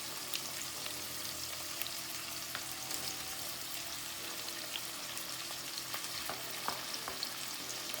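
Sausage and bacon pre-cook in a pan for fried rice. A soft, steady sizzle and crackle runs throughout, with small pops scattered through it.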